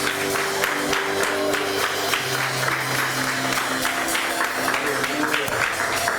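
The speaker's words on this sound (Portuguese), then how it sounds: "Vamos dar uma salva de palmas para Jesus" A church congregation applauds during a worship service, steady broadband clapping from many hands sustained for several seconds over held instrumental tones and faint voices.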